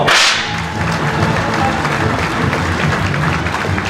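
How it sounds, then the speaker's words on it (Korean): Applause at a book launch celebration, a full room clapping steadily and densely for about four seconds, with a sharp slap at the very start and murmuring underneath. "자, 다시 한번 큰 박수로 환영해 주십시오."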